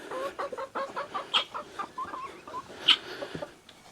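Chickens cluck repeatedly in short, uneven bursts close by, with a couple of sharper squawks standing out.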